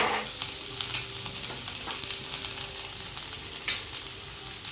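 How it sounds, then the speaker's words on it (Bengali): Two dried red chillies and chopped ginger fry in hot oil left from frying chicken for chilli chicken, giving a steady, close crackling sizzle with occasional sharper pops. "এই তেলে আমি দিয়ে দিয়েছি 2টো শুকনো লঙ্কা,"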